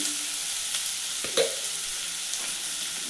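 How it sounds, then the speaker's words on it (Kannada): Onions and green chillies frying in a pan for mango chitranna give off a constant close sizzle, broken by a few brief clinks and scrapes of stirring partway through, with no talking. "ಈರುಳ್ಳಿ ಎಲ್ಲ ಚೆನ್ನಾಗಿ ಫ್ರೈ ಮಾಡಿದ್ದೀನಿ"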